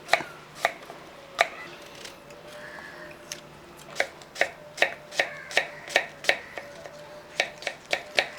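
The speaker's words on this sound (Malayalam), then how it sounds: "ഇതേപോലെ അത് ഇതുപോലെ കഷ്ണങ്ങളായിട്ട് അങ്ങോട്ട് അരിഞ്ഞു" A knife cuts washed fruit into pieces on a board for fruit custard, making sharp, close chopping knocks. The knocks come sparse at first, then in a quick, even run of about a dozen, with no talking.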